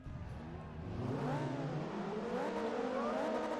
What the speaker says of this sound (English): Listen to that engine.